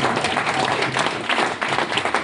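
An audience applauds a Smart Cities category winner at the 1776 Challenge Cup at Capital Factory, a steady, dense round of clapping from a crowd in a hall, lasting the whole moment.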